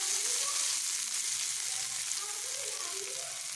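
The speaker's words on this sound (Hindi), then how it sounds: "तड़का तैयार है और मैंने डाल दिया इसको कड़ी के ऊपर।" A steady hiss of hot tempering oil sizzling as it is poured over kadhi pakora curry, quiet and continuous for a few seconds.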